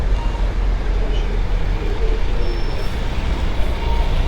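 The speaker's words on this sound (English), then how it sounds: "There's a lorry trying to pull in." Low, continuous engine rumble of a lorry trying to pull in on a roadway near a stadium construction site, close and steady amid general traffic noise.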